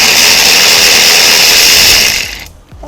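Pneumatic impact or power tool whirring loudly and steadily for over two seconds, then cutting off, while removing a brake bolt on a 2008 Honda Civic EX during a brake job in a garage.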